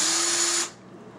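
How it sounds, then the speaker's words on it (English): A power drill whirs steadily as it bores a hole, a close high-pitched hum lasting just over half a second before cutting off abruptly. "Then I have a drill bit to drill a hole"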